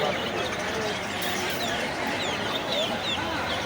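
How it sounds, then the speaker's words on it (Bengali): Curly-feathered foreign-breed chickens cluck and call at a busy poultry market, a dense, steady din of many birds with no pauses. "এই যে দেখেন এখানে বিদেশি মুরগি দেখতে পাচ্ছি তার পশমগুলো কীভাবে কোকড়ানো"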